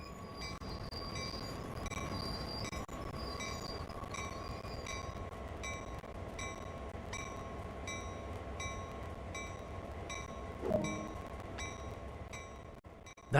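A GP38-2 diesel locomotive in the video game Train Sim World 2 rolls to a stop under its automatic brake, with a steady rail rumble, a faint high brake whine and a brief squeal near the end.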